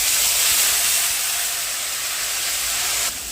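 Ground tomato and onion paste poured into hot oil, giving a loud, steady hiss and sizzle close by that eases slightly toward the end, with no voices.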